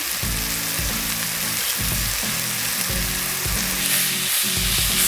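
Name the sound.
chicken sizzling in a pan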